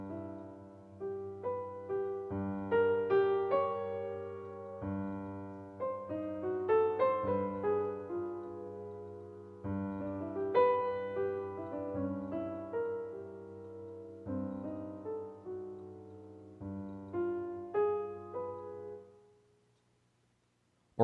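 Jazz piano ballad intro with the right hand arpeggiating a single-line melody over sustained low chords, unhurried and rubato, with notes rising and falling in gentle waves before a held final chord fades out; no talk.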